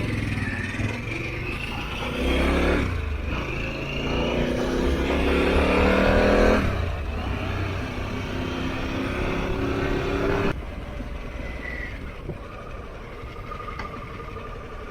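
A 2021 Harley-Davidson Pan America motorcycle accelerates on a demo ride, its engine droning loudly with rising pitch sweeps as gears change, under steady wind rush.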